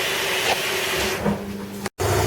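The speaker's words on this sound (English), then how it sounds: "excuse the noise of the washer" A washing machine running nearby, a loud steady whirring hiss with a low hum, briefly cutting out near the end before resuming.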